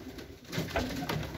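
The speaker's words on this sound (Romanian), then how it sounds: "Vreau să vă prezint porumbei." Pigeons coo softly in a loft of fancy and racing birds, a few low rolling calls rising and falling over a quiet background.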